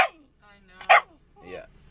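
Dog barking outdoors in freezing weather, a few short sharp barks and yips spaced apart, close and fairly loud, with a person's voice also present.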